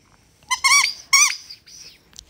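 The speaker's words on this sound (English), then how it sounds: "guess who found his squeaky ball?" A dog squeezes a squeaky toy ball, producing a few loud, high-pitched squeaks in quick succession, close by, followed by a softer trailing squeak.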